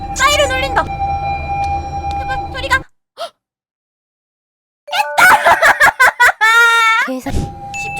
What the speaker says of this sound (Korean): 사이렌 울린다